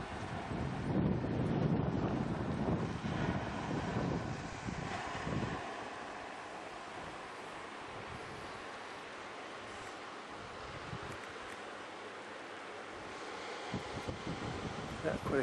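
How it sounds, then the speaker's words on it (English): Gusty wind buffets the microphone at a harbour. Loud roaring gusts open the stretch, ease into a quieter low rumble in the middle, then pick up again near the end, with indistinct voices faintly underneath. "It's pretty windy offshore."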